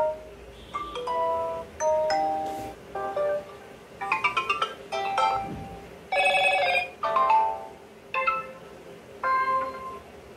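A series of electronic notification tones from a Motorola One Fusion phone plays one after another, short melodic chimes and beeps separated by brief pauses, clear and close.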